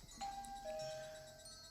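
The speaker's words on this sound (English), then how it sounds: "I rang the doorbell, but there was no response." A doorbell in the Higurashi visual novel sounds a clear two-tone chime, a bright first note followed by a longer sustained ringing tone that fades out, alone over quiet background.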